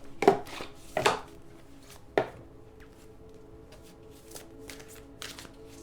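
Tarot cards are handled and drawn, giving a few crisp close slaps and shuffling flicks early on, then softer scattered taps and rustles with no speech.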